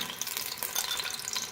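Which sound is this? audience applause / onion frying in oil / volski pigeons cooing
onion frying in oil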